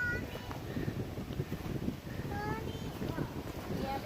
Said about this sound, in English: It's windy. You might start to have a hard time to hear me.